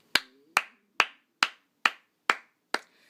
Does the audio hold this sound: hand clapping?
yes